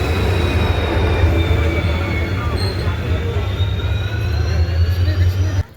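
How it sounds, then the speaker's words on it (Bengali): A passenger train pulls into a station, loud and close, with a deep continuous rumble of rolling wagons and drawn-out high wheel squeals before the sound cuts off abruptly. "সো গাইস আইতাছে ট্রেন।"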